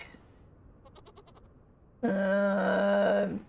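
Goats in the farming game Vintage Story: a short, faint stuttering bleat, then a loud, sustained nasal bleat held for over a second, close and alone.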